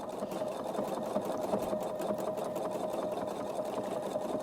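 A sewing machine stitching with a circles and straights tool runs fast and steady, its needle producing a rapid, even mechanical chatter that stays close and uninterrupted throughout.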